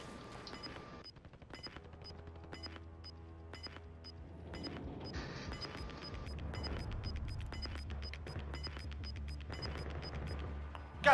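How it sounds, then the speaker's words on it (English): Distant gunfire in the Call of Duty Warzone video game: scattered faint shots and short bursts crackle far off over a steady low in-game rumble and ambient hum, with no talk. "Gunfire off to our left, huh?"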